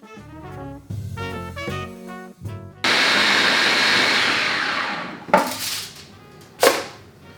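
A blender grinds peanuts into thick peanut butter in a loud, steady whirring burst of a few seconds, preceded by other tonal sounds and followed by a couple of sharp knocks.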